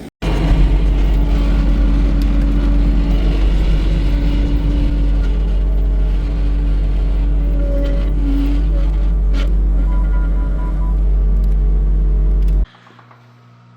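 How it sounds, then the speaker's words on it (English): A truck's DEF pump runs loudly and steadily for about twelve seconds, a continuous mechanical whirring hum with a deep low drone, then cuts off abruptly near the end, leaving quieter background. "The def pump is so loud on this thing."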